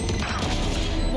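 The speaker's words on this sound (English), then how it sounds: "Stun bomb" A stun bomb in a tactical shooter game goes off in one dense, crashing burst that fills the brief moment with a loud, harsh smash.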